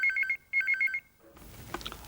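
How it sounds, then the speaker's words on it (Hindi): A telephone rings in two quick bursts of warbling electronic trills in a Hindi drama scene, fairly loud and alone, followed by a short stretch of quieter rustling room noise. "तो फिर देरी किस बात की है मोदी साहब, फोन करके तसल्ली कर लें"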